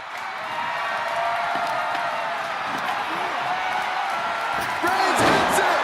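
A roaring arena crowd cheers in the WWE 2K25 wrestling game, a steady loud wash of voices that swells near the end, with a commentator talking over it.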